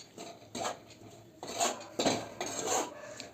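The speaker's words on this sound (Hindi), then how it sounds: "भूनूंगी आटा को 4 से 5 मिनट के लिए धीमी आंच पे चलाते हुए, ताकि जले नहीं" Wheat flour being stirred and dry-roasted over low heat in a pan for gond laddoo, giving a few close, scraping clinks of a spoon against metal in irregular strokes.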